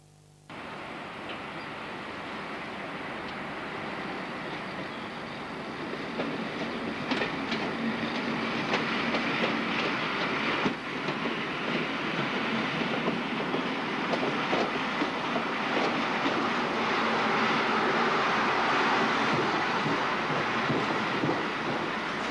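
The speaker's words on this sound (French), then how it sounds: "La 12000 va d'abord déposer sa rame sur une voie de garage, puis se remettre en tête du côté Saint-Germain." An SNCF 12000 Crocodile electric locomotive maneuvering with its train of coaches, a continuous rolling rumble with rail clatter and rattling wagons that grows a little louder and denser as it moves, with light wind buffeting.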